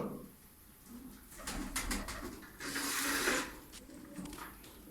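Pet pigeons in a loft coo softly nearby, with a few low throaty calls and a brief burst of fluttering or rustling midway, over a quiet background.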